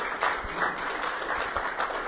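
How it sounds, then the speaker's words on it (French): An audience applauds rugby figure Fabrice Landreau at a regional sports broadcast, a soft, fairly distant wash of clapping that holds steady throughout. "Bravo Fabrice Landreau qui était ce soir exceptionnellement avec nous. On peut l'applaudir."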